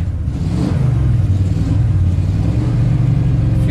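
A rebuilt Ford big block V8 engine catches and revs, a loud close rumble that swells after a brief start and holds a strong, steady roar with slight wavering.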